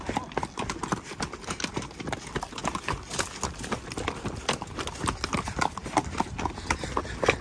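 Horse hooves clip-clop in a quick, uneven rhythm on a group trail ride, close and continuous with some faint background noise.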